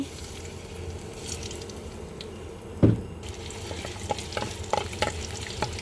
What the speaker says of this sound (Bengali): পেঁয়াজগুলো সামান্য লাল করে ভেজে নেব